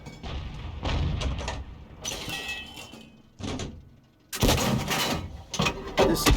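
Heavy booms from a 105 leFH18B2 artillery gun firing shells in a video game, several loud blasts with rumbling tails separated by gaps, close and dominant.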